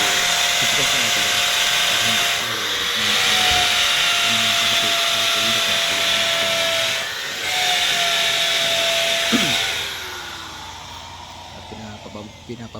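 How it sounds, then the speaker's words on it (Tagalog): A power drill with a concrete drill bit bores steadily into concrete for metal cladding installation, a loud continuous whine that dips briefly twice and trails off near the end. "Pinapapabarnahan ko po guys yung concrete gamit yung ang concrete na drill bit"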